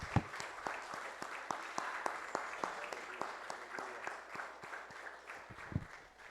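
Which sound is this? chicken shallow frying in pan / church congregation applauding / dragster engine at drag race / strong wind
church congregation applauding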